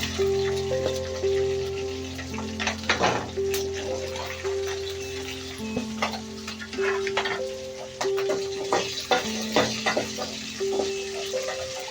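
Green chillies frying in a pan for bottle gourd chutney give off scattered sharp crackles and pops over a steady sizzle, while sustained tones hum in the background.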